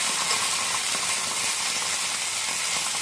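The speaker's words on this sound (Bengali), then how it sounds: "আর এখন রসুনটাও পেঁয়াজটার সাথে ভালো করে ভেজে নেব।" Onion and garlic fry with ginger-garlic paste in a pan for a Bihari-style egg curry, giving a steady, loud, dense sizzle throughout with no talking.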